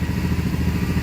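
A 2008 BMW X5 E70 engine idles steadily with a low, even rumble and a faint rhythmic clatter, no voices.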